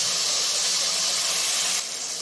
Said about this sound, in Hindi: तो इसको हम अच्छे से करते हैं फ्राई जब तक हमारे टमाटर नहीं गल जाते